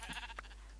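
Short Minecraft sheep bleat, faint and brief, heard alone in a quiet game world without any talk over it.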